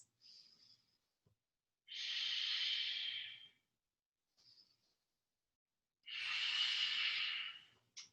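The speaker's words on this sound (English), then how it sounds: "We have 3 full breaths." Full deep yoga breaths, two long hissing exhales through the nose or mouth with short faint inhales between, close and without talk.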